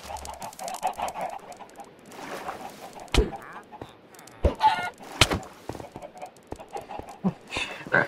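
Minecraft chickens cluck and squawk in bursts, with sharp clicks and soft background noise between the calls.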